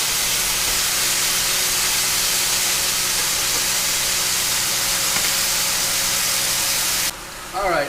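Pork chops searing in a pot for Cajun smothered pork chops and rice and gravy, giving a loud, steady sizzling hiss that runs nearly unbroken before dropping away briefly near the end.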